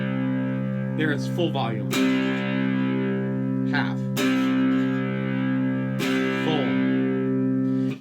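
An electric guitar chord rings out with light distortion and sustain, struck again a few times while someone talks briefly over it.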